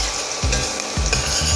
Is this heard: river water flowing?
no